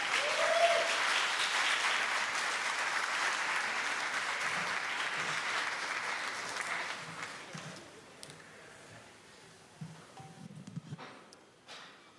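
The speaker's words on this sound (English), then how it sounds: "Let's give him a round of applause, everybody, for Alex." Sustained audience applause at a stand-up comedy and variety show fills the room loudly, then thins out and fades into scattered claps and faint murmurs near the end.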